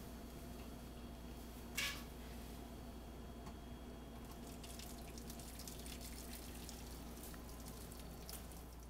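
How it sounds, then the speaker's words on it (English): Warm water runs steadily into a roasting pan for a baking cheesecake, a soft continuous pour with a brief clink near the start, close and fairly quiet. "I'm going to fill this roasting pan with warm water"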